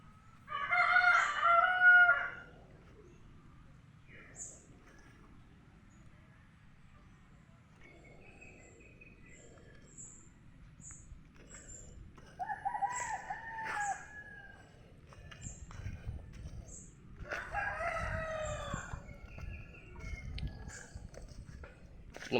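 Roosters crow loudly at a backyard chicken coop, two or three long drawn-out calls spread across the stretch, with softer clucking and rustling between them and faint background noise.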